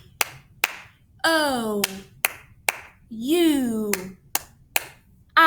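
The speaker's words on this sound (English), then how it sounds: "we're going to add 3 claps in between each one" Children clap in sets of three, sharp close slaps between vowel names called out in chanted voices, the claps and spoken letters alternating in a steady classroom rhythm.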